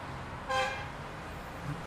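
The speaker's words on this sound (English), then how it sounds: "And then they're all still honking." A car horn gives one short, clear honk over a faint roadway background. A quieter low toot follows near the end.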